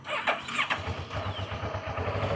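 A 2012 Kawasaki ER-6n motorcycle cranks and catches, the starter whirring briefly before the engine settles into a steady, close, throbbing idle with no one speaking.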